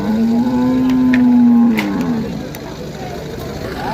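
Bulls at a cattle market lowing: one long, loud moo carries through the first half, then fades into the market's background murmur.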